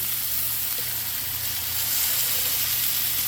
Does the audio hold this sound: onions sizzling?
yes